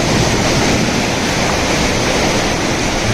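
Sea waves washing onto the shore where a cast net is being thrown, a loud continuous rushing surf with no voices, close and steady throughout.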